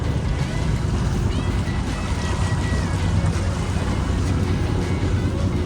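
The sailboat SV Drifter, freshly refitted after three years, runs back toward the marina on open water: loud, steady wash of waves and rushing water mixed with heavy wind buffeting, continuous throughout and without talk.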